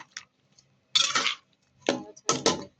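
Tomatoes are stirred in a cooking pot, giving short bursts of close scraping and clinking of a utensil against the pot, separated by brief silences, with a couple of faint ticks between them.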